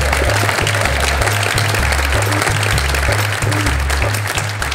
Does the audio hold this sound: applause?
yes